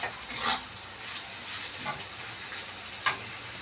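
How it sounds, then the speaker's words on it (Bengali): Potatoes frying in oil with turmeric and salt for vegetable chowmein, a continuous soft sizzle with a couple of brief spoon scrapes and taps, quiet and close. "আমি আলুটাকে ভালো করে ভেজে নেব লাল লাল করে ভেজে"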